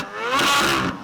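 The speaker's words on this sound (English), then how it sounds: "This is what a Z06 actually sounds like." Engine note of a real Chevrolet Corvette Z06, a broad, loud rev that swells and holds for about half a second before easing off, with no talk over it.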